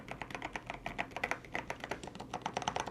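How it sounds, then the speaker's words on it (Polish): Steady typing on a Keychron Q3 Max mechanical keyboard with clicky switches, a fast run of soft, close keystrokes with muted rather than sharp clicks, no voices. "Nawet pisząc, mimo że są to switche klikające"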